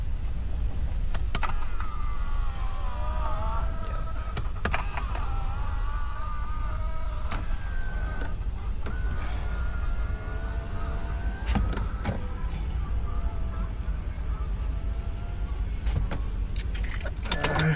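A Mitsubishi Xpander side mirror fitted with an auto-fold module folds and unfolds at a service shop in Taytay, Rizal, its small motor whirring in repeated runs between clicks and light rattles.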